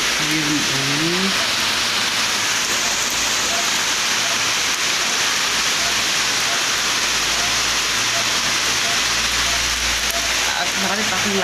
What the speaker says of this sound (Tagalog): Gano'n kalakas ng ulan.